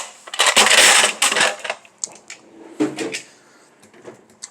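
A drawer on a US General 44-inch metal toolbox slides open with a loud metallic rattle and clatter of the wrenches inside, followed by a few lighter knocks and shuffles.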